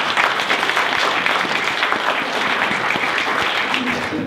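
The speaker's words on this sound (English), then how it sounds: "if we could actually give them a quick round of applause" Audience at a workforce development panel on employee recruitment and retention giving a quick round of applause for a panel member; a steady, moderately loud wash of many hands clapping, holding evenly for several seconds.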